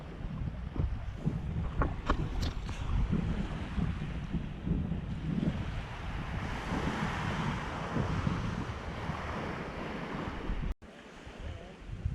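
Steady low rumble of a tour boat engine in a bay anchorage, mixed with waves and wind noise, continuous at moderate distance before cutting out briefly near the end.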